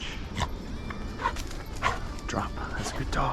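A hunting dog works a dove field among sunflowers, retrieving a shot dove, with short yips and whimpers close by while a man gives commands and talks over it.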